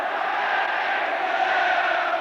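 A football crowd at Norwich City against Bayern Munich in a UEFA Cup tie roars in a sustained, broad wall of cheering and shouting that holds steady and loud throughout.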